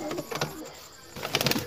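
Pigeons kept for sale in Lucknow give a brief, soft cooing burst at close range over a low, murmuring background.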